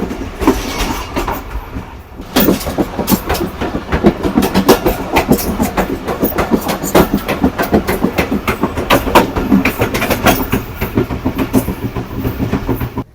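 A passenger train running on rails between Mirpurkhas and Karachi in Pakistan, heard from on board: a loud, steady rhythmic clickety-clack of wheels over rail joints with a low rumbling roar that continues throughout.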